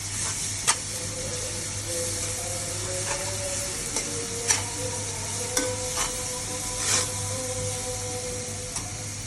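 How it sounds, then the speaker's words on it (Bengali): Ginger, garlic and cumin spice paste sizzles in a hot pan with a steady close frying hiss. A few sharp clicks of stirring break through, and no one speaks. "এবার দেবো এই যে আমার আদা রসুন জিরা পেস্ট করা মশলা।"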